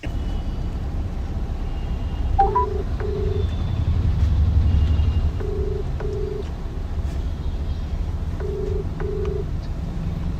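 Outgoing phone call tones repeat in paired beeps, recurring about every three seconds over a low steady background hum, with no one speaking.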